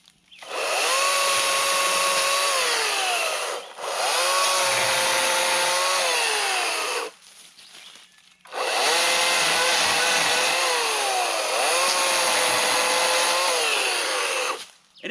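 An Atlas 80V battery-powered chainsaw from Harbor Freight cuts through a fallen dead tree, a loud close whining buzz in two long sustained runs with a brief drop to idle between them, no talk.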